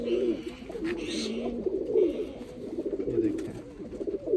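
A pair of Taban pigeons coo steadily and close by, their low rolling calls repeating throughout with faint rustling in the background.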